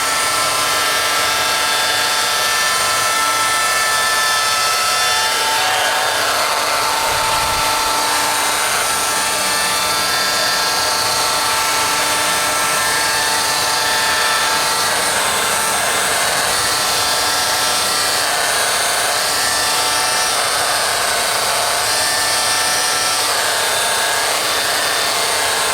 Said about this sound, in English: that's the second honing pass. We did 2 honing passes with 800